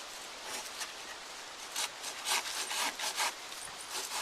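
A handsaw cuts through a wooden walking stick branch near its crook, with close, rasping back-and-forth strokes that grow in uneven bursts.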